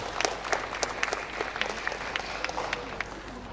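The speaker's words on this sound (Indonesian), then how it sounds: "Boleh tepuk tangan buat wisudawan kita semua" An audience at a junior high school graduation ceremony claps for the graduates, a sustained moderate patter of many hands with individual sharp claps standing out, heard from some distance in a large room.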